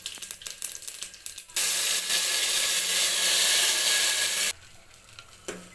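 Green chillies and ground spice paste frying in a pan, a loud, steady hiss and sizzle that bursts in after light stirring clatter, holds for about three seconds, then cuts back to soft scraping.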